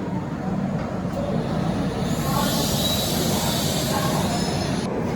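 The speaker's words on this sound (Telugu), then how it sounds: "ఇప్పుడే Rajahmundry railway station platform number 2కి అయితే విశాఖపట్నం హజ్రత్ నిజాముద్దీన్ స్వర్ణ జయంతి ఎక్స్ప్రెస్ అయితే వచ్చింది" The Visakhapatnam–Hazrat Nizamuddin Swarna Jayanti Express pulls into platform 2 at Rajahmundry station, its wheels rumbling steadily on the rails with a rising metallic squeal, loud and close for several seconds.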